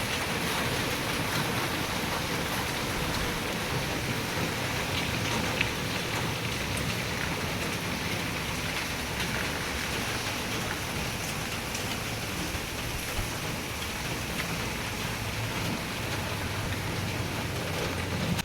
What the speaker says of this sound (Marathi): पहा पुण्यात जोरदार मुसळधार पाऊस सुरू आहे